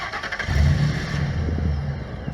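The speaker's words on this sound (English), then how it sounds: "I'll give you a little startup sound of the 2003 Ford with the Flowmaster muffler." A 2003 Ford F150 twin-turbo pickup with a Flowmaster muffler starts up nearby, a short crank followed by a deep, rumbling idle and a brief rev that settles into a steady growl.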